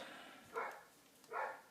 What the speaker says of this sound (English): sorry, my neighbor's dogs.